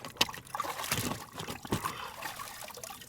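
An AR-15 receiver is rinsed in water, giving a close, continuous trickling and splashing with a few sharper sloshes, and no talking.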